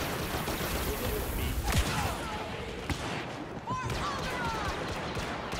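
Dense, continuous blaster fire and explosions in a Star Wars Battlefront (2015) Heroes vs. Villains battle at Jawa Refuge, a chaotic steady barrage with voices mixed in.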